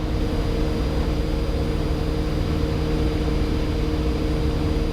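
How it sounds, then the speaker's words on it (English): Small training airplane piston engine droning steadily in flight, a constant loud hum with steady low tones and no pauses, heard from inside the cockpit. "Listen to the engine, watch your airspeed, 67."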